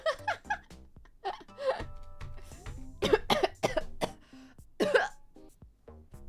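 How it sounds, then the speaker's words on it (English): Several sharp coughs in quick bursts, close and fairly loud, mixed with throat clearing, a bit of speech and faint kitchen sounds while handling meat. "I should not cough on the meat"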